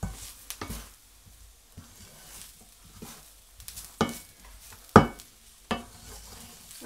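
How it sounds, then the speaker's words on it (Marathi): Ginger, garlic and garam masala sauté in a pan for a Malvani chicken masala, giving a low sizzle under sharp scrapes and knocks of a stirring spoon at irregular intervals. "आता त्याच्यामध्ये मी हे आलं लसूण त्याच्यातच जरा परतून घेणार आहे"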